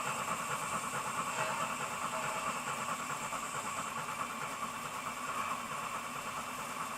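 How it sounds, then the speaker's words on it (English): ESU sound decoder in a model steam locomotive running with the regulator shut, giving a steady, moderately quiet mechanical hum and chuffing drone without pauses. "we've now varied the sound of the locomotive by shutting the regulator, just like the real thing"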